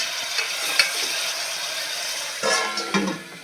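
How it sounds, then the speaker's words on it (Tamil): Onions frying in oil in a pan, a steady close sizzle with a few soft stirring scrapes, no talk. "பாருங்கள் ஆயிலில் வந்து வெங்காயம் ஓரளவுக்கு வதங்கிச்சு"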